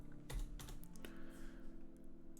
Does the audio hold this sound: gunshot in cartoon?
no